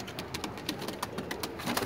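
Pigeons, including gift pigeons of the Viennese and Pakistani breeds, cooing nearby, with soft repeated calls over a rustling background and rapid fluttering bursts.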